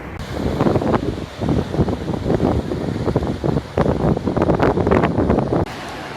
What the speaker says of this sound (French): il y a le bruit de la mer derrière, avec des grosses vagues